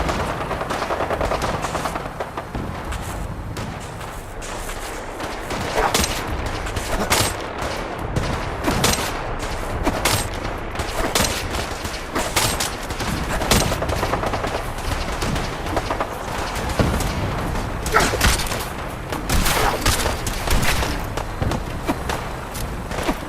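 Sustained gunfire in the video game Fallout 4, loud rapid bursts and single sharp shots in an irregular, near-continuous rhythm over about twenty seconds, with no voices.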